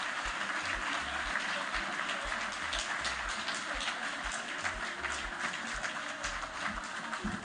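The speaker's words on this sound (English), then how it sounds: "Let's continue to clap for him" Sustained applause from an audience at a World Public Service Day ceremony honoring a public servant; dense, steady clapping fills the whole stretch without pause.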